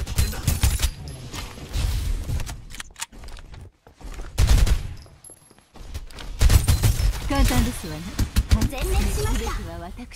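Gunfire from the battle royale video game Farlight 84, bursts of shots mixed with game effects and a person talking over them, loud and dense throughout.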